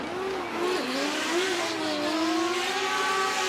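A drift car at full throttle at a Formula Drift Japan event, Naoki Nakamura's number 999, howls in a loud, sustained wail whose pitch rises and falls as the revs shift, with a hiss of tire noise underneath.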